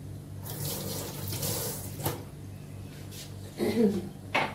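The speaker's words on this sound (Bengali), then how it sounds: "এই কাপটা একটু ধুয়ে নিই" A cup is rinsed under a running tap indoors: a steady stream of water with clinks and splashes as the cup is handled, growing louder near the end, without talk.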